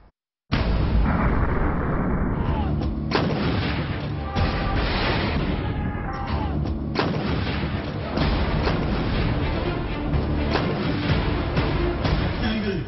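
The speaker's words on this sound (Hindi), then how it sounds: "इस बार दिल्ली में होवित्जर तोप की जो गर्जना है वो आपको सुनाई देने वाली है।" Continuous loud booming and heavy blasts from howitzer artillery, one burst after another with no pause, dense and rumbling throughout.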